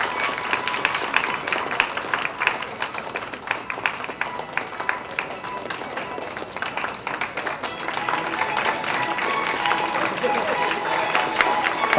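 Guests at a wedding banquet applaud and clap in a steady, fairly dense wash of crowd noise that builds slightly toward the end, with voices mixed in.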